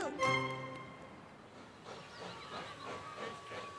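Cartoon train station effect: a short steam whistle blast opens, then a broad steam hiss with rhythmic chuffing bursts of a steam train, moderately loud with no voices.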